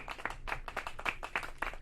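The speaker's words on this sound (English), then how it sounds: "Clap it." Quick, faint hand claps come in a fast, uneven run of sharp slaps, close but low in level.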